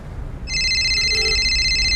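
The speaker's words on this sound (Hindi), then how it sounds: "किसका फोन है देखो?" A telephone starts ringing with a steady electronic tone, loud and close, over a low room rumble after a brief quiet start.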